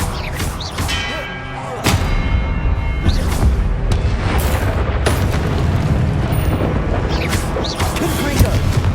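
Deep booming blasts of the Confringo fire spell in the video game Hogwarts Legacy, a loud continuous barrage of repeated explosions with rumbling low end and crackling bursts, under battle clatter.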